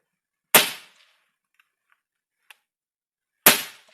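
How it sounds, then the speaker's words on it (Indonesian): A PCP air rifle is dry-fired to clear a jammed pellet, giving two sharp, loud cracks about three seconds apart with faint small clicks in between. "Tembakkan dulu angin kosongan supaya untuk membersihkan Sisa-sisa gram dari mimis yang macet."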